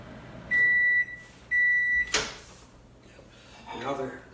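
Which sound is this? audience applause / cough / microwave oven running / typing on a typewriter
microwave oven running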